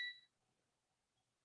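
Kitchen oven timer giving a short burst of shrill electronic beeping at the start, then fading into quiet room tone.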